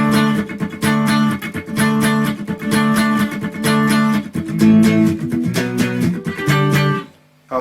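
Electric guitar plays the intro riff of a song, a steady repeating pattern of bright picked notes in even rhythmic groups, close and loud and alone, breaking off briefly before the end.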